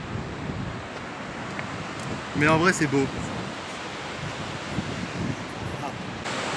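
Ocean waves on the coast of Bali, a steady wash of surf and wind noise throughout, with a person briefly speaking over it.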